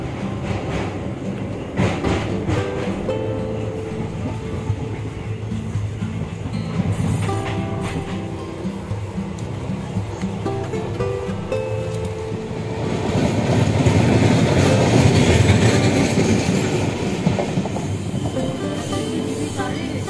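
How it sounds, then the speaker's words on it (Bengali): A train rolls into New Cooch Behar station, rattling with rhythmic clickety-clack and rising wheel squeal as it slows, the rumble swelling loudly near the end, heard from on board without talk. "আর আমাদের ট্রেন নিউ কোচবিহার স্টেশন ঢুকছে।"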